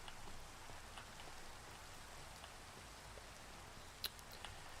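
Rain falls in the video game Minecraft, a soft, even hiss of patter that continues without a break, with one brief click near the end.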